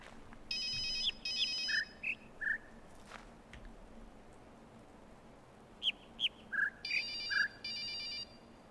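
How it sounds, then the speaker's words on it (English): In the video game The Witness, a telephone ringtone sounds in two repeated bursts over faint, scattered birdsong chirps in a quiet outdoor scene. "There's a phone ringing. Somebody answer that phone."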